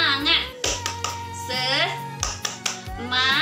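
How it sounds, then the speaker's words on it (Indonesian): Fourth-grade children in a classroom clap a quick rhythmic pattern of sharp hand claps, chanting along loudly between the beats. "kita tepuk semangat"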